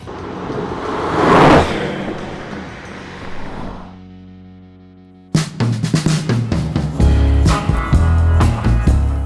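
Porsche 997 Turbo on a test drive: a whooshing engine surge rises and fades into a low steady hum, then rattly cabin and road noise with sharp knocks continues to the end.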